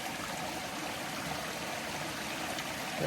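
A small Appalachian creek flows steadily, a soft, even burble and trickle of water heard alone and close.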